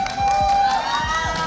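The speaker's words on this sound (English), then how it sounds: "Can we get an applause for R7?" Crowd at the M4 World Championship esports event cheering for a player on stage, a dense roar of voices and applause, loud and sustained throughout the short burst.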